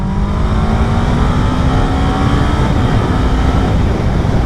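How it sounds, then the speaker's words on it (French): A Kawasaki Ninja 7 Hybrid motorcycle accelerates hard in third gear with boost mode engaged, giving a loud, close, continuous engine roar whose pitch climbs steadily, with heavy wind noise throughout. "Maintenant, on refait la même chose avec le mode boost."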